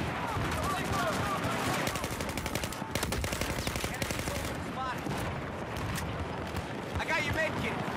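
Rapid automatic gunfire and scattered shots from a Battlefield match, including an M416 rifle, crackle densely and loudly throughout the clip, mixed with in-game battle noise and a voice talking over it.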